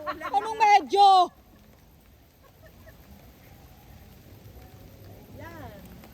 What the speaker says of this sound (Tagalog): Medyo mo amaambon, oh! Anong medyo? Umuulan!